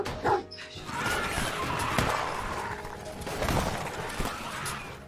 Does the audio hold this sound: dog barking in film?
yes